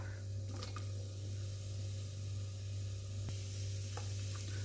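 Sliced large onion sizzling steadily in oil in a pressure cooker for vegetable biryani, a constant close frying hiss with a few faint stirring clicks and scrapes and no talk.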